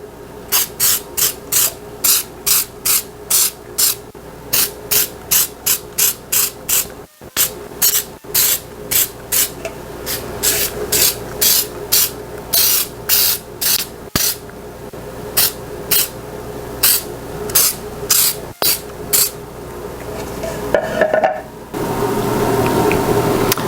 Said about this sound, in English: I'm going to take my bundt pan and I'm going to spray it with baker's joy